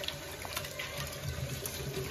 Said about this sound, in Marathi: हे बघा पोचे ते पण चांगले धुवून घ्यायचे 2-3 वेळा.